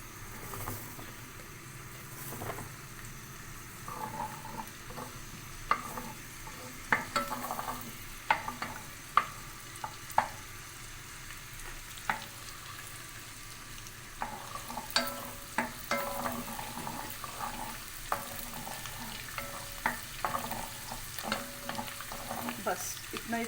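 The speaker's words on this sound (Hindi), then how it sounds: "लहसुन को फ्राई करें हल्का सा।" Garlic frying in a pan for a potato and fenugreek dish, a quiet steady sizzle broken by scattered clinks and scrapes of a stirring utensil.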